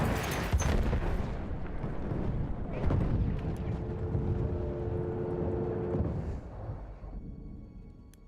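A bomb blast in the shooter Battlefield 1: a loud, rumbling explosion that opens the clip and rolls on with booming debris and battle noise before fading out.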